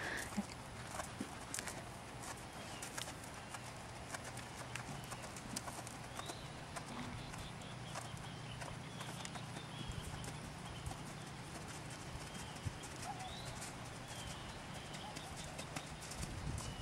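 A horse canters through a dressage pirouette lesson, its hooves beating a steady rhythmic clip-clop on an arena surface, faint and distant throughout.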